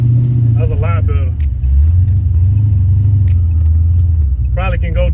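A Volkswagen T5 van drives along with a steady low engine rumble and road noise that rises and falls slightly, while people talk briefly over it near the start and again at the end.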